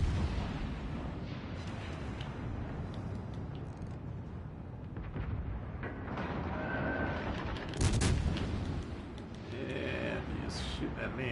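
Naval gunfire in World of Warships Legends, a German destroyer battle on console, with repeated booming salvos and a sharp louder blast near the end, layered under constant battle noise and someone talking.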